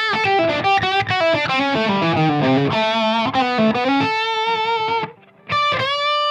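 A 1978 Gibson ES-335 TD in walnut, its bridge humbucker driven through heavy distortion, plays loud sustained chords and notes with a rich harmonic buzz, briefly cutting out near the end before ringing back in.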